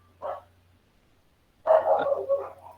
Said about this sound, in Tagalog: maingay yung mga aso namin